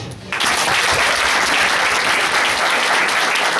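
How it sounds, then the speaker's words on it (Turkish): At a closing ceremony, a crowd bursts into loud, sustained applause for the students' parents, dense clapping starting abruptly after a brief quiet moment and carrying on steadily. "de bu güzel pırıl pırıl gençleri yetiştiren velilere bir alkış."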